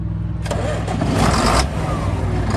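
A 1993 John Deere 7800 tractor engine cranks and fires right up after a brief moment, settling into a loud, rough diesel rumble close by.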